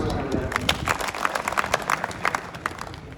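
An audience at a Congress party gathering in Guruharsahai, Punjab, claps together in a dense, rhythmic burst that carries through the whole moment, with a voice faintly underneath.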